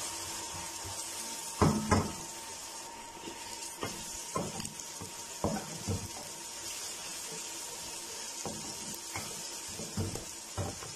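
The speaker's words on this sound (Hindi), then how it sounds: "30 सेकंड के लिए इसको भून लेंगे" A gentle sizzle of ginger garlic paste frying in a pan, with occasional scrapes and stirring clinks from a utensil, heard up close.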